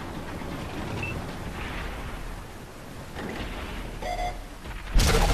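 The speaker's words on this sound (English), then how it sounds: "Bounced off our front plate." Tank shell striking and bouncing off the front armor plate of an STA-1 or E50 medium tank in World of Tanks, heard amid a rumbling battle soundscape, capped by a sharp loud impact burst near the end.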